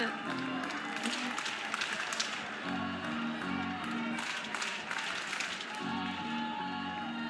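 Softball crowd at an Auburn Tigers versus Oklahoma Sooners game cheering and applauding after a foul ball, a steady wash of clapping and voices with a commentator talking over it throughout.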